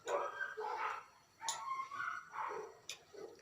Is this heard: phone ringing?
no